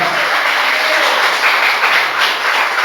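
Steady, dense applause from a church congregation filling the room at close range, with no breaks or talk over the clapping.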